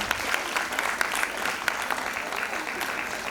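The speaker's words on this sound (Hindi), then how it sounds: "आए हुए सभी अतिथियों का स्वागत प्लीज जोरदार तालियों के साथ करें।" A crowd at a silver jubilee programme claps to welcome the guests, with brisk, continuous applause and a murmur of voices beneath it.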